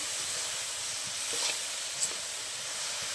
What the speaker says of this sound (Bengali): এখানে যে নারকেল যেটা করে নিল আমি মাখিয়ে দিলাম, মা যেটা নেড়ে নিচ্ছে, মানে রান্না করে নিচ্ছে সুন্দর করে